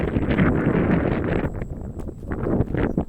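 Strong wind buffets the microphone on a hilltop by a temple flying two flags, a steady roaring rush with gusty swells throughout and no talking.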